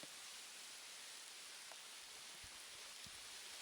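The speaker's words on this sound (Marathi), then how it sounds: "नऊ तारखेला पाऊस आला जोरात" Steady, dense rain hissing evenly throughout in Konkan, India, with a few louder drops pattering close by; no voices.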